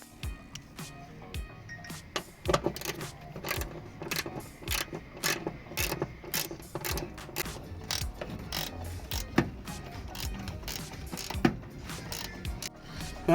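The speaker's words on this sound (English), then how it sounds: "both bolts are off. The 10mm is off from the top, the 14mm is off from the bottom" A ratchet works the 10mm and 14mm seat belt bolts out of a 2014 Kia Picanto, its rapid clicking pawl heard up close in repeated bursts with metallic clunks between strokes.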